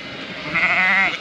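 A single sheep or lamb bleats close by in a field during lambing season, a short wavering call with no talking.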